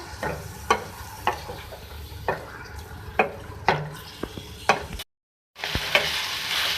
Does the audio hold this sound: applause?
no